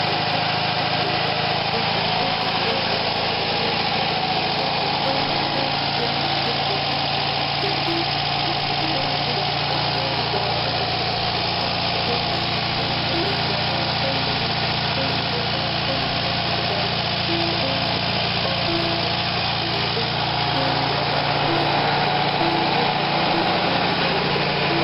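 A Volkswagen engine, started cold after sitting a couple of days, settles into a steady idle, a continuous close, even running hum with a light buzzing tone and no voices throughout.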